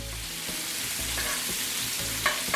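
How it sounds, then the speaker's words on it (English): Asparagus frying in a pan, a dense steady sizzle with a few brief scrapes and knocks as it is moved, close up and even in loudness. "We got our asparagus cooking away over here."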